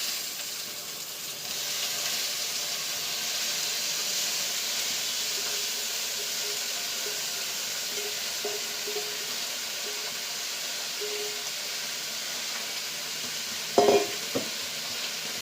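Ponnaganni spinach greens frying in a pan for a South Indian keerai kadayal, a steady close sizzle and hiss with occasional soft stirring, then a pair of sharp clatters from the utensil near the end.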